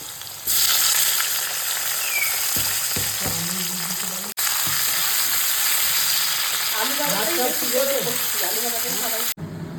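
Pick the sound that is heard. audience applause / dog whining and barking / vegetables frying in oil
vegetables frying in oil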